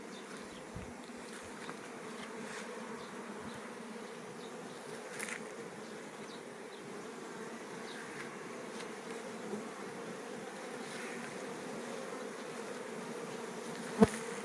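Bees at a hive made of stacked frame boxes hum in a soft, steady drone on a hot afternoon. The buzzing is faint and continuous, with a few louder passes close by.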